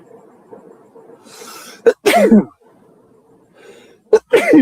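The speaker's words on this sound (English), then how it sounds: "Now I'm sneezing." Two sharp sneezes, each a quick intake followed by a loud burst, separated by a couple of seconds of quiet background murmur.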